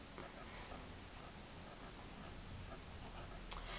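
A fountain pen scratching across paper, close and quiet, a soft continuous scribble with no pauses or talk.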